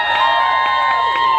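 An audience at a VIP dinner concert cheers loudly to vote for a sad song, a dense wash of high shrieks and voices sustained for a moment without a break.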